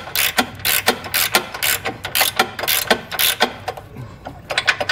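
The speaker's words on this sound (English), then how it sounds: "we're gonna be taking an 18mm socket, and we're gonna be removing the nuts that hold the bumper onto the actual frame" A hand ratchet with an 18mm socket spins bumper nuts off the frame of a Jeep Wrangler, producing quick bursts of close, crisp clicking in uneven runs with short pauses between strokes.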